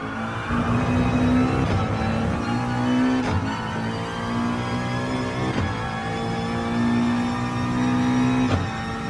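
Race car engine at Spa-Francorchamps in the game Gran Turismo Sport, a loud sustained engine drone that rises in pitch, dips briefly at gear shifts, then climbs again, with no voices over it.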